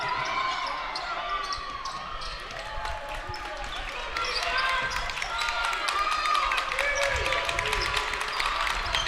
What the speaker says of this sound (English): De Pere crowd imploring their defense to keep up the intensity